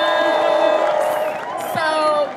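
A rally crowd cheers and claps with whoops and shouts, a dense, loud roar of many voices filling the whole stretch.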